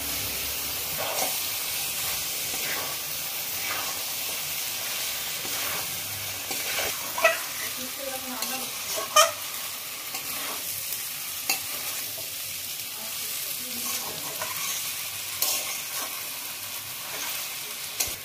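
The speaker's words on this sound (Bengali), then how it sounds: "এবারে আমি সেদ্ধ করে রেখে ভেজে রাখা যে এঁচড়গুলো আছে সব দিয়ে দিচ্ছি।" Boiled and fried young jackfruit is tipped into a hot pan with garam masala and stirred, a steady quiet sizzle and hiss punctuated by scraping spatula strokes and soft knocks, close and without talk.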